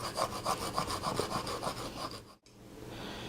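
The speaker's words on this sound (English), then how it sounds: "Next, grate yourself some garlic." Garlic is grated with a rhythmic, scratchy rasping, repeated strokes close up that run for about two seconds before a short pause, then a softer rubbing continues.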